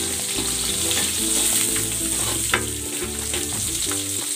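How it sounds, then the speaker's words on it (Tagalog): Garlic and onion are sautéed in a pan with a loud, steady sizzle of frying, accompanied by occasional scraping and stirring sounds close up. "Magigisa na ako ng bawang. Lalagay ko na rin tong sibuyas."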